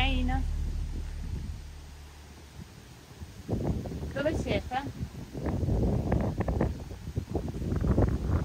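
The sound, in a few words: wind blowing in a cemetery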